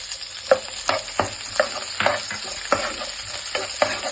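Onions fry in oil for aloo saagu with fenugreek leaves, with a low sizzle broken by regular sharp scrapes and knocks of a spatula against the pan, close and fairly loud, and no speech.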